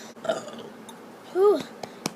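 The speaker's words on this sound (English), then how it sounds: "Burp." A girl lets out a short, croaky burp, with a few softer throaty sounds and small clicks around it, near and alone.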